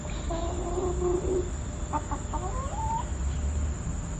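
Chickens cluck in a backyard flock, several short clucks and a rising call over a steady low background hum, fairly close with no talking.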